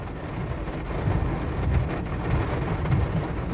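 Steady rain pours down with low rolling thunder rumbling underneath, the thunder swelling in several soft waves, close and fairly loud with no voices.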